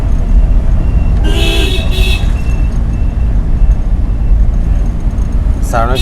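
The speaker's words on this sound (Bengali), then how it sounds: "হর্ন দিন" A car horn sounds during a driving lesson on the road: two short toots early on and another brief toot at the end, heard over a steady rumble of engine and traffic noise.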